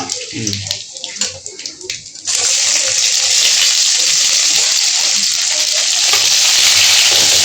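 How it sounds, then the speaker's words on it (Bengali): Onions hit hot oil in a home Bengali kitchen and break into loud, steady sizzling that holds to the end, after a couple of seconds of quieter kitchen clatter and talk. "পেঁয়াজ পেঁয়াজ পেঁয়াজ ভেজে নেব।"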